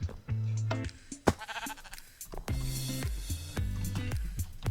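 Blocky sheep in Minecraft bleat repeatedly in a game world, several loud, close nasal baas spread across the stretch with short gaps and game sounds between them.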